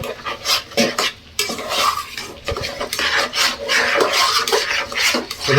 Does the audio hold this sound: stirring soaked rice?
yes